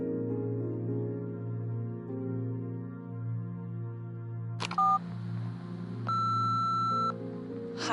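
Electronic voicemail system tones from Nobody Wants to Die: a low hum runs throughout, then a sharp short beep sounds near the end, followed by a steady sustained tone for about a second, fairly clean and alone.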